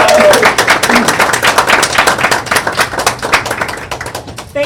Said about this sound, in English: Let's give Kim a round of applause